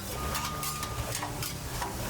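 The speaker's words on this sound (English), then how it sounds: "Now you just kind of mix everything up" Potatoes and paprika being stirred in a pan in a Mexican restaurant kitchen, a steady scraping, sizzling clatter that continues without pause at moderate volume.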